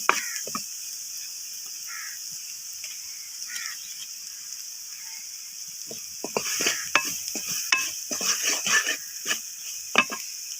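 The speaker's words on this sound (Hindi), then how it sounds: "सारे मसाले जो हैं थोड़ी देर के लिए इनको भून लेंगे अच्छी तरह।" Spices for an aloo samosa filling roast in a pan, a faint steady sizzle broken by scattered stirring scrapes and clinks that grow busier and louder toward the end, with no talking.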